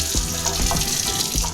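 A kitchen tap runs steadily and fairly loud while bread dough is being sealed, a continuous gush with faint knocks and clinks underneath.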